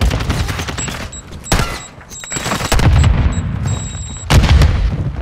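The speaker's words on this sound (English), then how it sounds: "You are taking effective fire." Gunfire rattles in the video game Call of Duty Modern Warfare 2 (2022), loud close bursts and single shots with booming impacts, dense and continuous.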